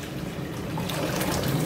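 Soaked chickpeas tipped with their water into a pan of fried curry masala, giving a steady watery pour and slosh that carries through the whole moment at close range.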